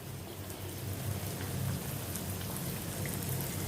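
Corn flour nachos frying in hot oil in a kadai over a low to medium flame produce a continuous dense bubbling hiss, close and even throughout, with no talking.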